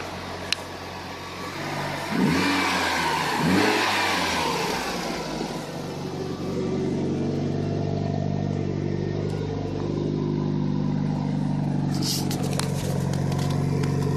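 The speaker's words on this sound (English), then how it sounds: "Give it a little rev here." A modified 2003 Mitsubishi Lancer Evolution 8 with a 4G63 engine gets two quick throttle blips that rise and fall sharply, then settles back to a steady nearby idle.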